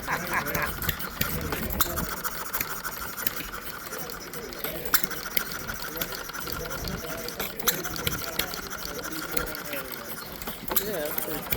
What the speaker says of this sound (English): Alright, we got the little teeny engine.